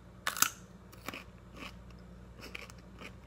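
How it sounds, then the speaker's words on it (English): Crunchy bites into a raw white radish, a few sharp close crunches with softer chewing between them, no talking. "And crunchy as a radish."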